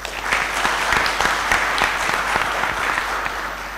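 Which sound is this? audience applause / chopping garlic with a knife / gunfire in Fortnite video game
audience applause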